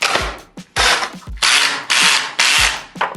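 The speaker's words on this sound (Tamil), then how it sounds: "இப்போ 2 ஸ்க்ரூ ட்ரில் பண்ணி எப்படி காமிக்கிறாங்க." A power drill bores screw holes into a wall to mount a Yalli Sun instant shower heater, running in five loud, close bursts of whining, grinding drilling separated by short pauses.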